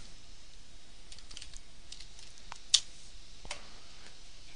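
Sparse, faint keystrokes click on a computer keyboard in a quiet room, a few scattered taps with one sharper click standing out.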